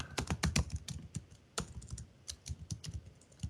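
Rapid, close keystrokes clatter on a computer keyboard while an fstab entry is typed, coming in quick bursts with brief pauses between.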